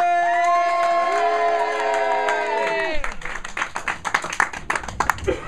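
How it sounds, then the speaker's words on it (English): A London comedy club audience cheers and claps for stand-up comedian Rory Morrin. A short musical sting fades into loud, close clapping with whoops and shouts, and the applause swells toward the end. "shout, scream, whoop and cheer for Rory"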